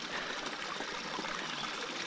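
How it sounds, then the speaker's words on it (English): A small creek flows steadily along a hiking route, a continuous broadband rush and trickle of water held at an even level throughout, with no voices. "What I've got here, it's a pretty small creek."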